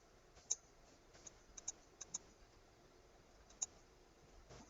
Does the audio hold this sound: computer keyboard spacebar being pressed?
yes